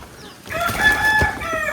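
Backyard chickens cluck while a rooster crows loudly and close by, a drawn-out call filling most of the short stretch after a quiet start.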